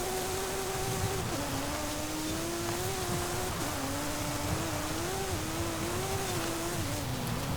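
A 2023 Porsche 911 Turbo S, rear-engined, tears off-road in Forza Horizon 5, its engine droning steadily with pitch rising and dipping through gear changes under a wash of dirt and tyre noise.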